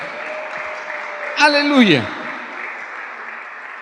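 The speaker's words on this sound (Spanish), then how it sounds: "fuerte ese aplauso al Señor" A church congregation claps in a steady, moderate wash of applause while a preacher's voice calls out briefly over it in the middle.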